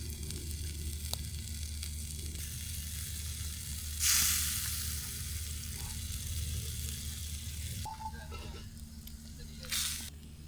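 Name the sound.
fish frying in pan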